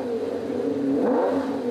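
A McLaren F1 with a 6.1-litre BMW V12 accelerating: a steady, loud engine drone that rises in pitch as it revs up, heard alone.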